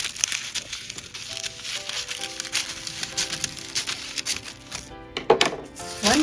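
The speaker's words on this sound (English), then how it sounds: "Next step is I take one of these pieces of tissue paper, cut it in half." Sheet of tissue paper, taken from wrapping paper, handled and cut in half with scissors: close, soft crinkling and rustling, then a few sharper snips and crackles near the end, with faint background tones and no voices.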